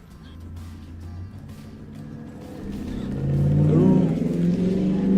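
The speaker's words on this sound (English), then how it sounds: "Loud truck out the window." A loud truck passes outside a window, its low engine rumble building gradually and swelling to a peak near the end, with a faint voice over it.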